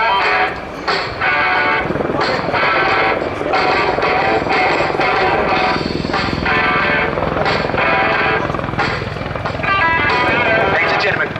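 An attack helicopter flying display at Yeovilton International Air Day 2016, a loud, continuous rotor and engine roar mixed with a public-address announcer's voice throughout.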